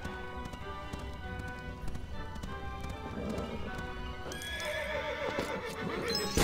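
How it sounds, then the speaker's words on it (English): Horse neighing and galloping in the Lego Indiana Jones video game, a loud whinny over steady clip-clopping hooves against a busy game soundscape. "Look at that horse."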